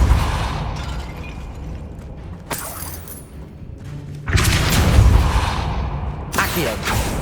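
Depulso spell blasts in the Hogwarts Legacy game: sharp booming bursts near 2.5 s, 4.3 s and 6.4 s, with the middle one the loudest and most sustained, over a rumbling game-world background.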